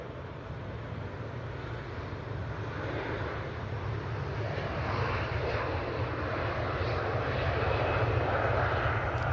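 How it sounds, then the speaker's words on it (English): A Qatar Airways Airbus A350-1000 rumbles at Manchester Airport with a steady, broad engine roar that slowly grows louder over several seconds, heard from a distance outdoors with a little wind noise. "And that'll be the Qatar A350 1000."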